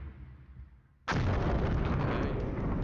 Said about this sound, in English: Our artillery is firing.